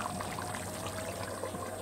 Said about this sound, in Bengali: ভালো মতন কষিয়ে আম্মু এখন পানি দিয়ে দিল সিদ্ধর জন্য